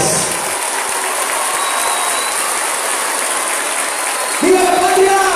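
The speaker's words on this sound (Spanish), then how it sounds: "¡Un aplauso bien fuerte para todos ustedes!" Steady applause from a crowd at a flag loyalty ceremony, continuous and fairly loud, with a voice starting up over it near the end.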